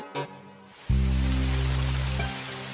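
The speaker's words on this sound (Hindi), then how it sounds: "देखो आज बारिश कितनी तेज हो रही है।" Heavy rain comes in abruptly and pours down as a loud, steady wash of drumming drops, holding for about two seconds before easing slightly, with no voices.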